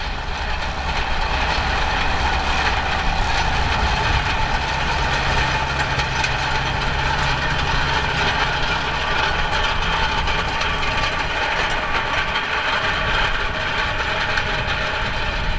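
A steady, heavy machinery drone from a John Deere 6910S tractor pulling 12.2 metre Opico rolls over winter wheat, with a low engine rumble and a continuous rattling clatter, constant throughout and fairly close.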